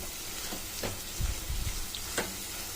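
Spinach (palak) fry sizzling in oil in a pan, with a few scraping stirs and low thumps from a spoon against the pan; steady close frying hiss with no talking.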